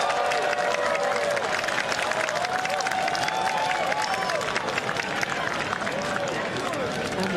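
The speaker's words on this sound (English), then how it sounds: "And listen to that crowd." A gallery at the final round of the Honda LPGA Thailand golf tournament cheers and applauds loudly after a birdie streak, a dense sustained roar of clapping and shouts with commentators talking over it.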